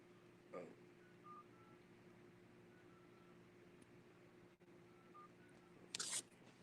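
Phone keypad tones sound while a number is dialed on a porch in Lake Charles, Louisiana, during Hurricane Delta. Several short, faint beeps are spaced apart over steady background hiss, with a couple of brief clicks.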